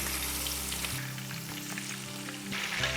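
A whole chicken fries in hot oil with a constant close hiss and crackle, a faint hum underneath and small spattering pops throughout.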